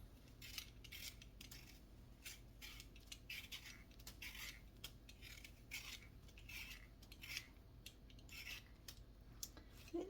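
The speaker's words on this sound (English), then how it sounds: "this is the way I always peeled potatoes" Potatoes being peeled by hand, a run of faint, soft scraping strokes at a steady, irregular rhythm, with occasional light clinks of the peeler close by and no talking.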